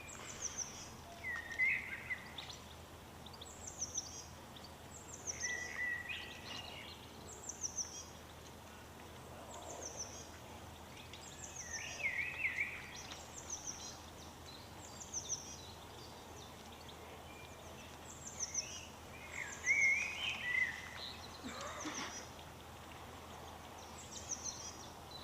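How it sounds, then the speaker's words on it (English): Outdoor bird calls, with geese among them, recur as short chirps and honk-like calls every few seconds over a quiet background hiss, fairly distant and soft. "The bird sounds are lovely until the geese pipe up."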